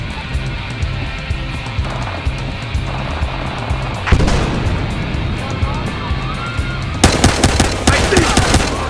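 Rapid automatic gunfire rattles in bursts during a Battlefield Hardline shootout, with a sharp blast midway and a dense, loud volley near the end, under people talking.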